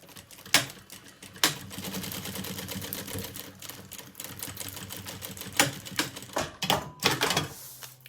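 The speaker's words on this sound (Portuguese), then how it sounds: "vamos fazer agora uma costura pé de máquina" A sewing machine runs a straight seam on a kids' lunch bag, joining the bottom and gusset right sides together: a steady fast mechanical patter with a few louder clacks at the start and end, close and unvoiced.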